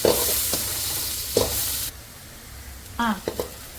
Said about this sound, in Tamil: ஒரு 3 வெங்காயம், சின்ன சின்ன பச்சை மிளகாய் அந்த வெங்காயத்திலே போட்டுக்கோங்க